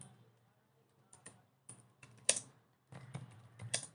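Keys on a computer keyboard tap in quiet, irregular bursts of close clicks, including a few quick clusters, with no talking.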